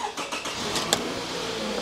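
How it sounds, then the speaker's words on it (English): A car engine cranks and catches in a short, quiet burst of ticks and a rising hum, the car being checked for a faulty mass airflow sensor. "I'm going to turn on the engine"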